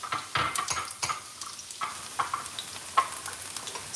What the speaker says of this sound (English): So we are frying our onions right now.